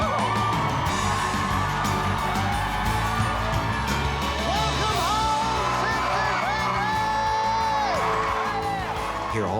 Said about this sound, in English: Hear all that screaming